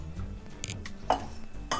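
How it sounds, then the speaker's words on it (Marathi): Sparse metal clinks and scrapes ring out against a cooking pot as oil is spread inside it, a few separate knocks under a quiet kitchen background. "आता आपण आधी या पातेलीला तेल लावून घेऊ"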